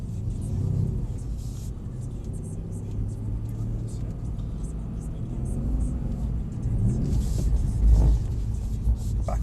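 A Mercedes-AMG 63 on a track driving experience carries a low, rumbling engine note throughout, building and swelling under throttle toward the later part, heard from inside the car with a voice speaking over it.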